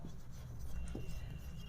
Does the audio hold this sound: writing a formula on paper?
yes